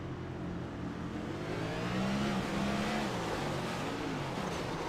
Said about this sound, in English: Over-revved it.